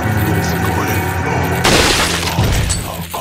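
Rifle fire in Resident Evil 4 (2005): loud, sharp booming shots with a crashing burst partway through, set against dense in-game music and ambience.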